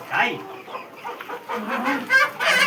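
Cross-breed country chickens cluck and squawk at a poultry farm, a busy, overlapping mix of close bird calls with someone talking over them.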